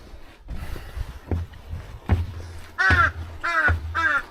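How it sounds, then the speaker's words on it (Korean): A crow caws on a mountain trail on Yongmasan, with three loud, harsh, nearby calls in steady succession following some scattered rustling and thumps. "까마귀 안녕."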